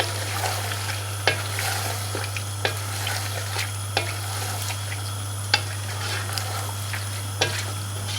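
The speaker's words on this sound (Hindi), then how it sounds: "आपके टमाटर और हरी मिर्चें, इसे भी अब मिक्स कर लें।" Tomatoes and green chillies stirred into a frying pan with turmeric and black pepper for a prawn biryani masala, giving a steady low sizzle with a few sharp spoon-against-pan clicks spaced through it.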